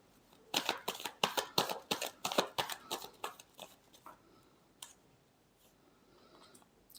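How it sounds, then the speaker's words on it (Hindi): Tarot cards are shuffled up close in a quick riffle of about a dozen crisp, rapid flicks, then a few softer slides and taps as the deck settles. "Last shuffle."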